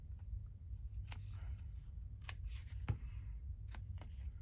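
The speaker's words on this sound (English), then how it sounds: "I'm going to snip my corners." Scissors make several faint, crisp snips as they trim the corners of paper for an antique-style document journal. The cuts come at irregular intervals over a low background hum.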